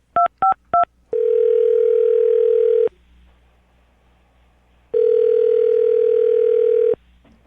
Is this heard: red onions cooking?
no